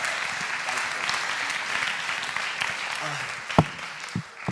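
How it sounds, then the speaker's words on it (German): A church congregation applauds Stefan with sustained, fairly loud clapping from many hands, while a few louder close claps and brief voices break through near the end. "Gib mir Stefan einen großen Applaus."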